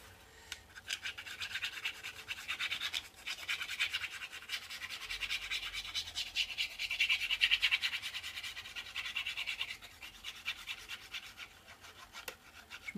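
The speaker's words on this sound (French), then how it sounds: "quand je racle la colle comme ça doit vous arracher les oreilles" Glue is scraped off a surface by hand while making an autumn mini album, a close, harsh rasping in repeated strokes that swell and fade over several seconds, alone without talk.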